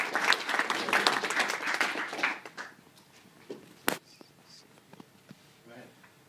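Audience applause welcoming a speaker at an indoor meetup, dense clapping at the start that thins out after a couple of seconds into scattered claps and quiet room noise.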